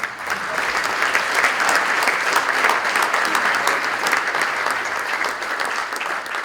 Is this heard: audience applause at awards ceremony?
yes